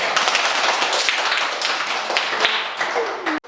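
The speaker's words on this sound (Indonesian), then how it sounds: "tepuk tangan untuk ketiga teman kita" Elementary schoolchildren clap together in a classroom at a primary school in East Manggarai, NTT, Indonesia: a dense, loud, steady burst of many hands that cuts off abruptly near the end.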